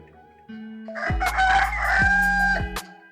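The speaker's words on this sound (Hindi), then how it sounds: "मुर्गा साहब जो है बात भी नहीं करने दे रहा।" A rooster crows once, loud and close, in a single drawn-out call of about two seconds that rises and then cuts off, with no talking over it.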